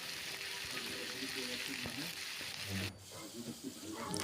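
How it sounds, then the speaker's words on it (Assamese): Soybean chunks and onion hit hot oil in a pan for a curry, giving a steady close sizzle with a brief dip near three seconds before the frying picks up again. "এতিয়া ইয়াতে চয়াবিনৰ বড়িকেইটা ভালদৰে ধুই তেলত দি দিলে আৰু আধা পিঁয়াজ তাতে দি দিলে।"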